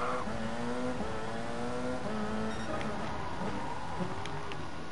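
An Audi race car in Gran Turismo Sport, its engine note steadily rising and dropping through the gears, with tire squeal and a constant drone but no talk.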